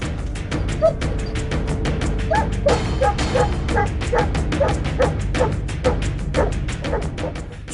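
An army search-and-rescue dog barks and yips repeatedly in quick succession, signalling a find, over a steady, noisy rumbling background.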